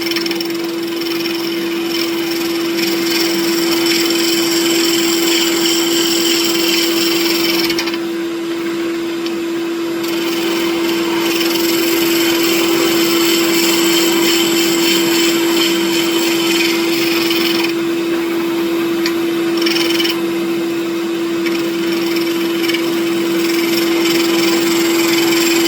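A shop vacuum runs steadily beside a wood lathe while a Gatsby pen is turned, giving a loud, continuous whine that dips briefly a few times but never stops.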